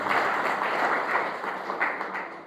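Audience applause from a church congregation, a steady dense wash of clapping that holds for a few seconds and slowly tapers.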